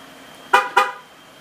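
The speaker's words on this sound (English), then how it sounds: "This is the Prestige quarter-mile pager, lock and unlock with full featured alarm." A 2009-2014 Ford F-150 horn gives two short, loud chirps in quick succession when a Prestige APS-922e remote start alarm is triggered, close by with a faint hum before and after.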